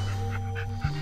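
An American pocket bully dog pants rapidly and close after exercise, several quick rhythmic breaths over a steady low background hum.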